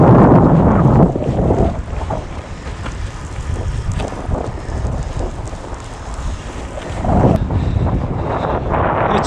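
Strong headwind buffeting a cyclist's microphone on a road ride, loud continuous roaring wind noise with heavier gusts at the start and near the end, no talk.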